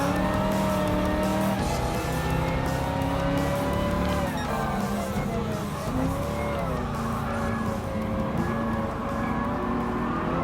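A Dodge Challenger muscle car races in Gran Turismo Sport, its engine droning loud and close with rising and falling revs as it shifts and passes other cars, accompanied by brief tire squeal, continuous throughout.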